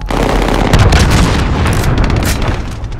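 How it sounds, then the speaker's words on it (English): A cruise missile explosion in Call of Duty Modern Warfare online play: a loud, sustained roaring blast with deep booming rumble and crackling debris throughout. "Enemy cruise missile incoming."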